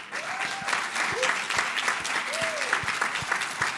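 An audience gives a retired three-star Army lieutenant general a round of applause, dense sustained clapping from a sizable crowd, with faint voices mixed in.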